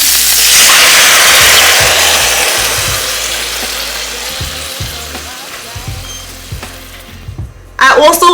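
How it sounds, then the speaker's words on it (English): Coconut milk hits Dungeness crab legs cooking in a pot over high heat, setting off a loud burst of sizzling and frying hiss. It fades to a softer bubbling simmer with light clatter, and a voice comes in at the end. "My crab legs have been cooking for about 10 minutes over high heat, and now I'm going to go in with the coconut milk."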